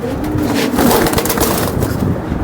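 Racing pigeons cooing at a busy pigeon market that sells club racer chicks, loud and close, set within a dense, continuous wash of crowd and handling noise.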